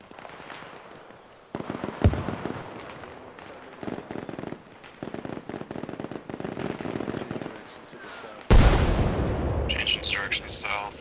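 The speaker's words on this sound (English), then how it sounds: "we gotta move before the artillery gets us" Artillery fire in a military video game: heavy booms and blasts in a firefight, with one sharp impact early and a loud sustained explosion late, under people talking over radio chatter.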